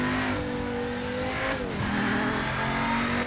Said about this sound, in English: The sounds are good, I like the engine sounds.